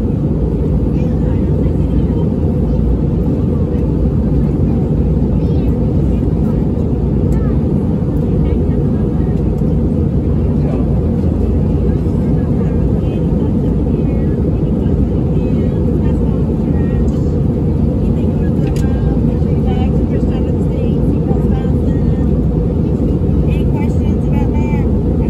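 Steady cabin roar inside an American Airlines Airbus A319 on landing approach, a loud, unbroken low-pitched engine and airflow rumble that stays constant throughout.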